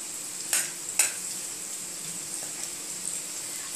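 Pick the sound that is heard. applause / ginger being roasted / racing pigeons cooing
ginger being roasted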